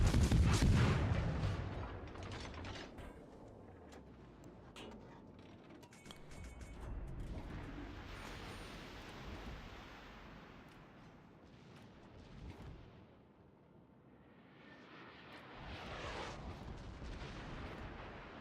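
Naval gunfire from armor-piercing shells in a warship battle game: a loud close blast opens, followed by rumbling echoes, mechanical noise and further distant booms under an in-game voice alert.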